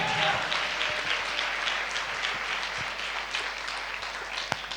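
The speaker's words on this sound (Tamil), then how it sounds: "கைத்தட்டுங்க" A church congregation at a Sunday service clapping together, a continuous moderate patter of many hands heard from a little distance, with faint voices mixed in.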